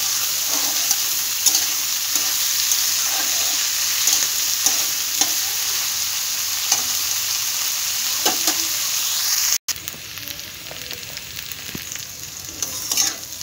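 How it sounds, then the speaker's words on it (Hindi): Mixed vegetables with capsicum frying in a pan, a loud continuous sizzle with occasional stirring clicks, briefly cut off near the end before the sizzling resumes. "सभी को मिलाकर हम अच्छे से फ्राई करेंगे।"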